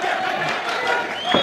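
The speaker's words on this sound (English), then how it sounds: "The crowd is going wild out here in Dubai." Crowd noise from a live MMA event in Dubai, a steady roar of cheering spectators filling the space throughout, with a brief louder swell near the end.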